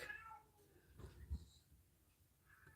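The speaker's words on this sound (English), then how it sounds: "I don't know what the cat's screaming about." Housecat meowing indoors, a few drawn-out cries at moderate distance, faint against a quiet room with a low background hum.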